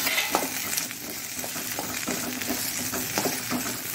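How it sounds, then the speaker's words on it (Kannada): Okra and onion frying in a little oil for a Mangalorean ladies finger sambar, a continuous close sizzle broken by repeated scraping stirs of a spatula in the pan. "ಬೆಂಡೆಕಾಯನ್ನು ಸ್ವಲ್ಪ ಜಸ್ಟ್ ಒಂಥರ ಎಣ್ಣೆಯಲ್ಲಿ ಹೀಗೆ ಬಾಳಿಸ್ಕೊಳ್ಳೋಣ"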